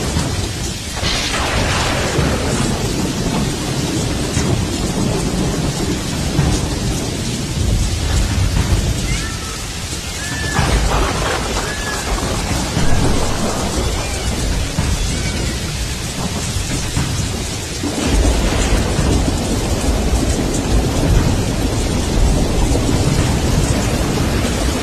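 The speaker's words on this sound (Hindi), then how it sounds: "एक दिन बारिश आई। ऐसी बारिश जैसे आसमान फट गया हो।" Heavy, continuous rain roars throughout, with deep rolling thunder rumbling underneath and faint distant cries now and then.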